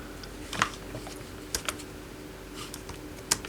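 Quiet, sparse keypresses tap on an old laptop keyboard under test, a handful of isolated clicks spread over a few seconds against a low background hum.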